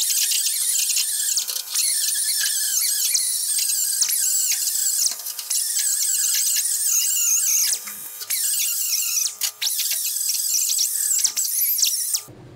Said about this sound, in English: We're just gonna hit it one last time with a wire wheel to get most of the rest of that rust off of there.